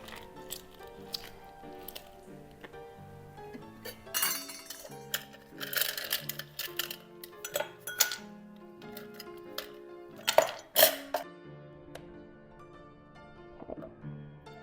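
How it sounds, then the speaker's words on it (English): Lime juice and a couple of ice cubes go into a highball glass, making scattered clinks, taps and a wet splash amid light handling noise, with soft music playing underneath. "So I've just put the lime juice in with a couple of ice cubes."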